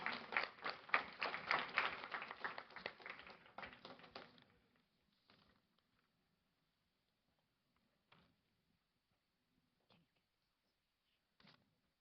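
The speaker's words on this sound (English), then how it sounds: "Give it a round of applause." Summit audience applauding a speaker called to present on jobs of the future: loud, dense clapping for about four seconds that thins and fades, followed by near silence broken by a few faint knocks.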